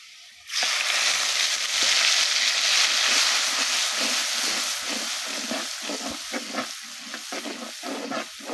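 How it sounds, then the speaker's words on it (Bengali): Spice paste hits a hot pan while cooking a freshwater bele fish dish, bursting into a loud, hissing sizzle that stays strong and steady, with soft stirring scrapes pulsing through it toward the end. "আমি এবার মশলাটা দিয়ে দিচ্ছি।"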